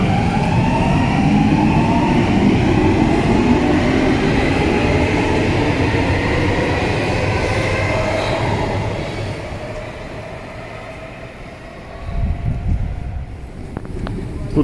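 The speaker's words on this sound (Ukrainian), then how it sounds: "Ось таке метро в Еспо" A metro train in Espoo, Finland rumbles and whines loudly, its pitch sliding as it moves, then fades before a fresh burst of rumbling noise near the end.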